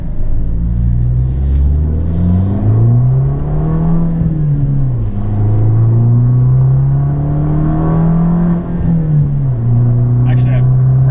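A 2013 Fiat 500 Abarth accelerates from inside the cabin, its engine droning loud and close and rising through the gears in long sweeps, under someone talking.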